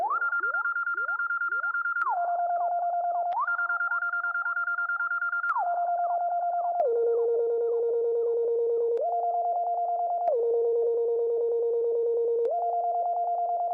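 Slide Through synth lead sample from the Zonology kit: a bright sustained tone stepping and gliding between pitches in a slow melody, with echoing repeats trailing each note, alone and clear.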